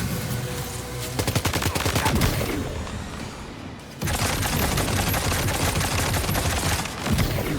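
Rapid gunfire in the video game Death Stranding 2, bursts of fast automatic shots, loud and dense, with a short lull before another sustained volley.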